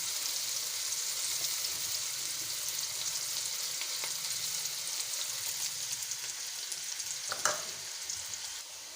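Onions frying in a pan for dhaba-style chana dal: a steady, close, hissing sizzle throughout, with a couple of brief scraping stir sounds near the end.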